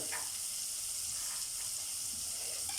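Chopped leek sizzles in butter in a hot pan, a close, continuous bright hiss of frying with faint crackles and no talk.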